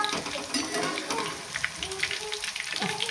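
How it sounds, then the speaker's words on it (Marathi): Snacks fry in hot oil, a steady sizzling hiss with a few soft clinks and stirring touches, close and moderately loud, with no voices. "आता आपण राहिलेले आहेत ते पण सेम असे तळून घेऊया."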